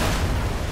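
A pipe bomb goes off in Left 4 Dead 2, a brief loud, dense low-end blast that fills the whole moment.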